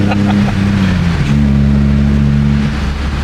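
A Nissan 350Z drift car engine pulls hard, a loud steady low drone with rising and shifting tones as it accelerates, close and continuous throughout without talk.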